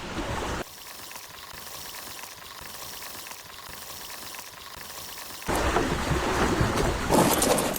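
Boat sailing through water in ARK: Survival Evolved, a steady wash and splashing hiss running throughout, growing louder and rougher near the end.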